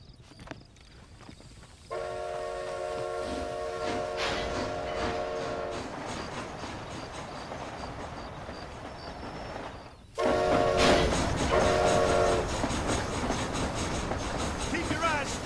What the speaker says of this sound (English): Is this train headed for Mexico?